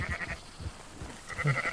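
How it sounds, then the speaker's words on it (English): Sheep bleating in the game Red Dead Redemption 2: several short, faint, wavering calls against low background noise. "Did you just hit a sheep?"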